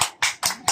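Four crisp hand claps ring out close and evenly spaced at a birthday gathering, each one a sharp separate slap.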